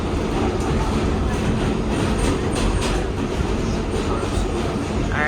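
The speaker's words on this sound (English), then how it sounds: "Now we're on the train." A New York City subway train rolls along the rails, heard from inside the car as a loud, steady rumble with rhythmic clatter and faint metallic squeals.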